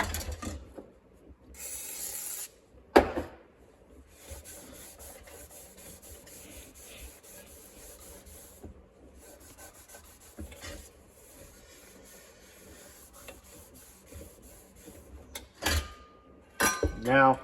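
A cloth wipes dirt off an old 12-inch avocado green Corondo fan with WD-40, giving soft intermittent rubbing and squeaky scrubbing strokes up close, with a few sharper knocks and squeaks from the fan's metal parts.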